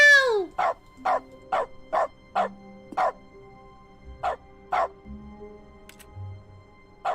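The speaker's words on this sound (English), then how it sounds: "We can bark now!" A dog barks in the dog mode of The Stanley Parable: Ultra Deluxe, giving about ten short, sharp yips spaced roughly half a second apart, clear and close over a faint background.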